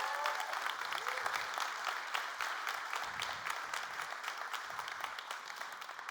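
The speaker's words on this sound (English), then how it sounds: "Can I get a round of applause for these wonderful people?" A conference keynote audience gives a steady round of applause, moderately distant and even throughout, with scattered individual claps standing out from the mass.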